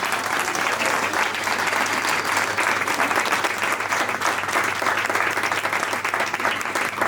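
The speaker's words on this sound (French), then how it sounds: "On peut l'applaudir bien fort." An audience at a student talent contest applauds after a song performed with guitar, giving dense, continuous loud clapping that holds steady for several seconds.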